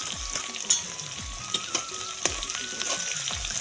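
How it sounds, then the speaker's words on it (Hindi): Fenugreek seeds, chilli and onion tempering in hot oil for a tangy vegetable curry, a steady close sizzle broken by sharp pops and spatters, with light stirring and no talking. "अब ये दे दूँ मेथी और मिर्चा प्याज के फोरन एक साथ डाल देता हूँ।"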